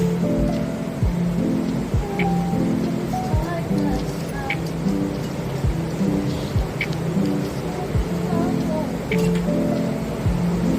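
Steady rain pours down outside a bedroom, a dense continuous hiss with occasional thumping drops and low rumbles, heard from indoors with a faint background hum.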